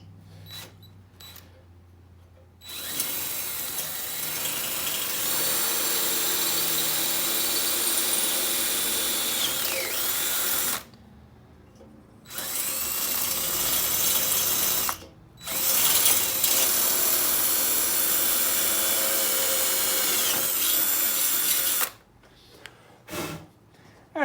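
Power drill whirring as it bores holes into the exhaust of a Honda Dax 70 fitted with a Lifan 125cc engine, loud and close in three long runs separated by short pauses, with clicking mechanical sounds at the start.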